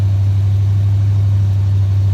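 A 1972 Chevrolet C10 pickup engine runs steadily up close, a loud, even low hum with a strong constant drone and no revving or voices over it.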